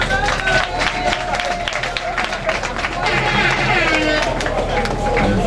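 A crowd at a family mourning-withdrawal ceremony applauds and cheers the family head, Papa Théo, with dense clapping and lively hubbub that continue throughout under loud voices.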